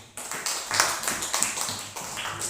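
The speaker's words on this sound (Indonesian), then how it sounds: "beri tepuk tangan dulu." Students in a school classroom clapping together during a teaching-practice lesson, in a series of rhythmic bursts of applause about half a second apart, moderately loud in a roomy space.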